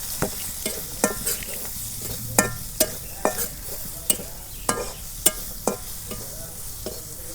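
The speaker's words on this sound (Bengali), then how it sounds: "মশলাগুলো আমি তেলের মধ্যে ভাজা নেব" Ground spices (salt, chili powder, turmeric) sizzling in hot oil in a village kitchen for kochu shak, with a steady frying hiss broken by a dozen sharp scraping clacks of a spoon stirring the pan, close and clear, no talking.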